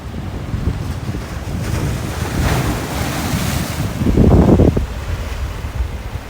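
Ocean waves crash on a deserted beach on Koh Chang, Thailand, a steady roar of surf with a louder surge near the end, heavy wind buffeting the microphone.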